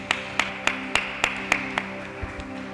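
A church congregation clapping during a worship service, sharp claps falling in an even, steady beat over a sustained musical tone, then trailing off at the end.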